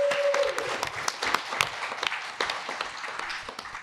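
Audience applause at a restaurant's 40th anniversary celebration, with scattered individual claps rising and thinning over about four seconds.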